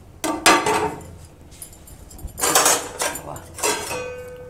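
Metal clatter and clinks from a lid set onto a cooking pot of simmering dal with drumstick stalks, several separate knocks and rattles spread over a few seconds, fairly close and with no talk.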